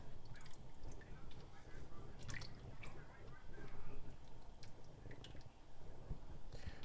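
Home-canned beef bone broth drips and trickles from a strainer into a pan in a homestead kitchen, a soft, steady patter of small liquid drops with faint wet clicks.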